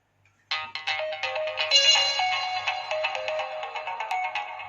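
A bright electronic Nokia ringtone, remixed, from a Nokia N97 phone plays a quick, looping melody, starting abruptly and continuing loud and clear with no voices.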